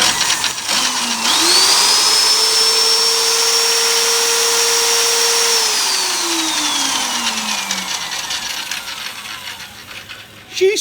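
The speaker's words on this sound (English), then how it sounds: "She smoked the drill." Power drill used for cutting a tenon, running hard and overheating: a loud steady whine that rises, holds, then winds down in pitch as the motor slows, with a brief clunk at the end.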